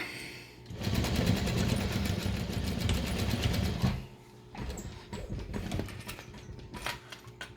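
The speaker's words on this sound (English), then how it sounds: "And then just continue sewing." A sewing machine stitches an embroidered fabric poop bag holder, running in a loud, fast steady burst for about three seconds, then in shorter, quieter stop-start runs.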